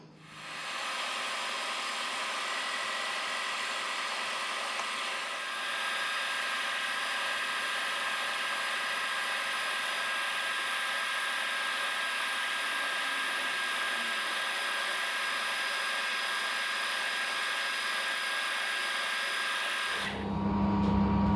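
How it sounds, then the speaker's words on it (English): A fly cutter takes a very light facing pass across a hydraulic cylinder part on a milling machine, a steady, continuous whirring hum that holds for about twenty seconds and then cuts off abruptly. "I will run the fly cutter, I think, over this very, very lightly"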